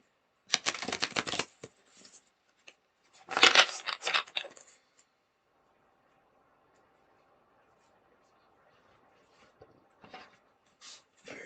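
Sacred Forest oracle cards are shuffled in quick riffling bursts, two busy rustling flurries near the start, then quiet handling and a few soft flicks later on, close and fairly faint, with no talk.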